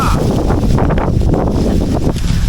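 Strong wind buffets the microphone on a bridge, a loud, steady roaring rumble that fills the whole clip with no clear speech.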